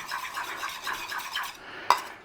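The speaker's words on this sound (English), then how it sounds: "We're going to give that a little quick stir" Utensil stirring a little olive oil and melted butter in a pan, a soft scraping swirl repeated through the clip, ending in one sharper clink against the pan.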